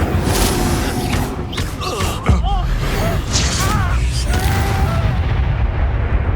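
Incendio fire spell cast in the video game Hogwarts Legacy, a sharp burst followed by rumbling booms and whooshes within dense game sound effects and music, with a voice speaking.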